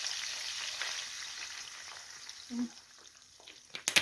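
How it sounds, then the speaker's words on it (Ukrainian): Steady sizzling of meat frying in oil, with a brief low clunk and a few clatters near the end. "і воно вже починає підсмажуватися"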